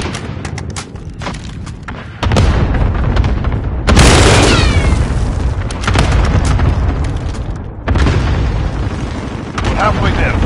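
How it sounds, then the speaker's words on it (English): Cluster strike explosions in a PS4 shooter: a long run of heavy, rumbling booms that roll one into the next and stay loud for about ten seconds, with an automated game voice heard among them. "Cluster strike incoming. Take cover."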